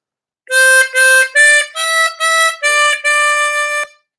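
A diatonic harmonica plays the opening phrase of Ode to Joy as seven clean, separated notes, the last one held longest, loud and close with no voice over it.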